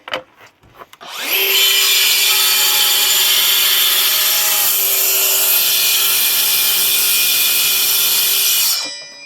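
A plunge saw cuts along a line in an oak butcher block worktop being fitted for a Belfast sink, a loud steady high whine that starts abruptly after a second and runs for about seven seconds before stopping.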